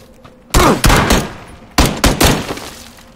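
Gunfire in PUBG (PlayerUnknown's Battlegrounds) solo match: two loud bursts of shots, the second a tight cluster of three or four reports, each trailing off into echoing decay, with quiet gaps between.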